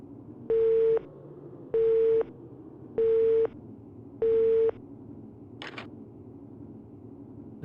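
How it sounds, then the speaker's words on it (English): Four evenly spaced electronic beeps, each about half a second long, sound clearly in the Resident Evil: Survivor PSOne game as Morse-code tones, followed by a short softer blip over a quiet background. "If it's Morse code, then I killed someone named S."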